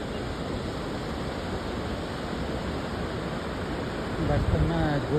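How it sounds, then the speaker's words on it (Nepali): The Tamakoshi river in Nepal roars past at dawn on the Upper Tamakoshi side, a dense, steady rushing wash that fills the whole scene, with a voice briefly rising over it near the end. "यसरी भिडियोमा मुख्य रूपमा तामाकोसीको सुसेलीलाई"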